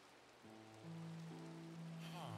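Rain in the Minecraft video game falls as a steady, soft hiss, overlaid with layered electronic background music tones that build and shift.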